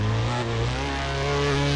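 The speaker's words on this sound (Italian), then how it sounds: "Adesso è giusto, diciamo, per la MX-5 questo sound qua." A Mazda MX-5 engine in the video game Drift 21 revs in a steady, loud, continuous drone with rising and falling harmonic pitch, heard alone without talk.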